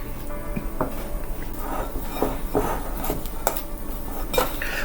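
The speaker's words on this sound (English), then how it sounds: "We'll mix in the softened butter." Softened butter stirred into batter in a mixing bowl, with a utensil repeatedly clinking and scraping against the bowl in a steady, fairly loud rhythm.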